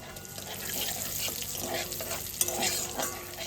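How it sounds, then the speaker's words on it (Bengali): Dried red chillies and nigella seeds sizzling in hot mustard oil in a home kitchen pan, a steady soft crackle and hiss with a few brief louder pops. "এবার আমি ফোড়নে আমি শুকনো লঙ্কা দেবো দুটো আর একটু কালো জিরা দিয়ে দেবো"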